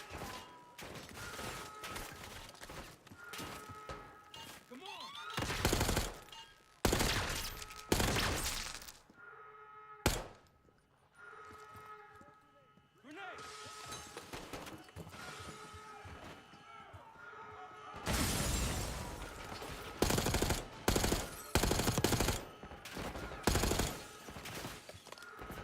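Rapid gunfire bursts from a video game, loud clustered volleys and single shots separated by short pauses, with brief talk mixed in.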